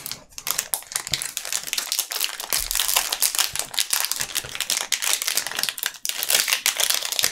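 Crinkly plastic wrapper of a trading card booster pack, a dragon-themed one, being torn and crumpled open, a dense run of sharp crackles and rustles close by with brief pauses, no talking.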